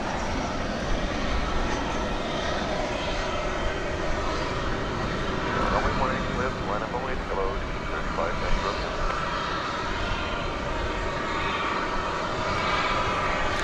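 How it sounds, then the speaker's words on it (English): A Spirit airliner takes off at DFW Airport at night, its engines a broad steady roar heard from a distance, with someone talking now and then over it. "There's Spirit lifting off."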